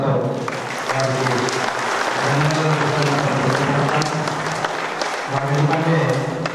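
An audience at a pyramid meditation centre's third anniversary celebration claps steadily throughout, a dense, continuous wash of applause with voices mixed in underneath.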